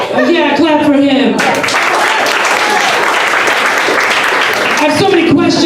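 A crowd applauds and claps at a comedy roast stage show. The clapping is loud and packed, rising after an announcer's voice, holding steady, then easing as the voice returns near the end.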